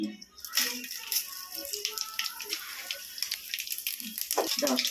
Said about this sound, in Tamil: இதப்பா கடுகு பருப்பு போடுறேன்